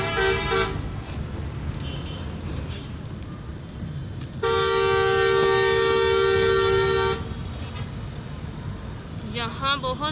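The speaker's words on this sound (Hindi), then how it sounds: "और इतना ज़्यादा रश है यहाँ पे, ट्रैफिक इतनी ज़्यादा है" Heavy road traffic in Pakistan with a steady engine rumble and several short car horn toots, then one long loud honk lasting a few seconds, heard close from inside a vehicle with people talking.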